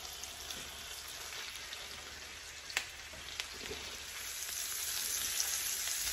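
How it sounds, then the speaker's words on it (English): Pork tenderloin browning in a hot pan gives a steady, close sizzle with scattered crackles and pops, growing slightly louder toward the end, with no talking. "now I'm just gonna brown the meat"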